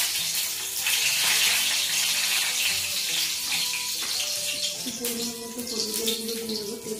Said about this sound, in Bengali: তেলটা দেখুন আমার গরম হয়ে গেছে। এরপর আমি দিয়ে দেবো দুটো শুকনো লঙ্কা।